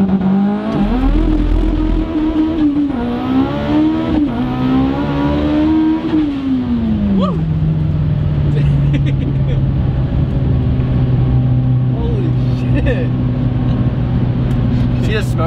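A tuned 900+ hp Mitsubishi Evo 9 running 55 psi of boost launches hard, its engine note climbing loudly then settling into a strong steady drone, with people talking over it inside the car.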